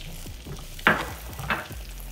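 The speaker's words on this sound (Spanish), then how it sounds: "vamos a freír de una vez el ajo ahí." Garlic sizzling in a pan of olive oil and butter, a steady low frying hiss broken by a few louder crackles and spoon scrapes as it is stirred, close and without talk.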